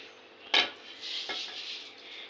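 Cooked rice is scooped onto a plate to drain, with a sharp metal utensil clink against the dish followed by a softer second tap and faint scraping in a quiet kitchen.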